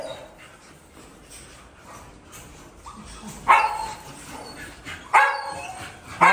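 Puppies at feeding time give out bursts of sharp yips and barks mixed with whimpering, loud and close, over a low background.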